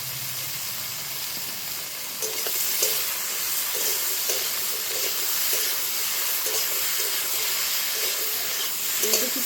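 Potatoes, eggplant and tomato fry in oil in a pan, a steady loud sizzling hiss that continues throughout with faint stirring scrapes.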